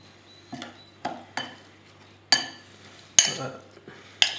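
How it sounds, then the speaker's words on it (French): An individual reheatable French combat ration, number 4, is stirred in 125 ml of water, making about seven distinct close clinks and scrapes against the container at irregular intervals, each decaying quickly, with no talking. "Je remue."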